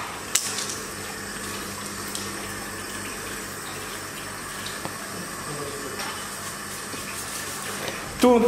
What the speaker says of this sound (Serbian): Ima i ovo za vodu i za kocke leda.